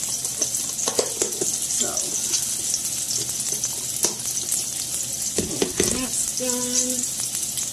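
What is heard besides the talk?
sausage being warmed and frying in a pan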